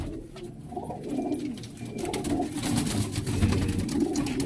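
Pigeons cooing close by, soft repeated low throaty calls overlapping in a steady rhythm, with a faint rustling background.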